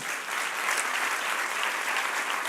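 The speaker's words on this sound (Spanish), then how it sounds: "Denle un aplauso, Señor" A church congregation breaks into steady, dense applause that stays even and full throughout, with no speech over it.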